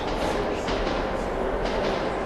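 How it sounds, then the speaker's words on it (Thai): A ghost train in the game Metro 2033 Redux roars through a tunnel, a steady heavy rumble of rail noise filling the whole stretch with faint whooshing surges and no voices. "เอ้ยมันมีรถไฟ โอ้โห my god"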